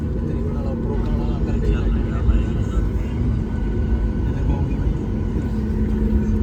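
A passenger airplane's engines roar during take-off on a flight to Thailand, heard from inside the cabin as a steady, loud, low rumble that continues throughout.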